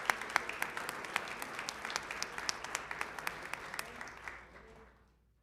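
A small group claps for a student mariachi ensemble, El Dorado Mariachi Azteca, at a school board meeting; the crisp individual claps sound fairly distant and quiet, then fade out toward the end.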